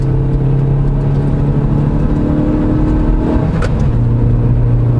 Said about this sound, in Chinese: 哇，轮胎声真的有点大声哦